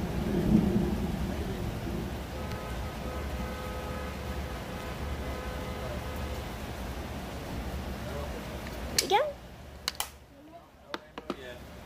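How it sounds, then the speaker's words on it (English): Rain falls outdoors while the sun is out, a steady broad patter with low rumbling underneath, before it gives way to a few sharp close knocks and clicks near the end. "The sun's out and it's raining."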